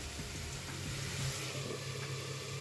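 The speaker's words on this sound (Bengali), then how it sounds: "পরিমাণ মতো নুন দিয়ে দিচ্ছি, দিয়ে আলুটা প্রথমে ভালো করে ভেজে নেব" Potatoes fry in a pan with chopped onion and salt, giving a steady, faint, close sizzle with light crackle throughout and no talking.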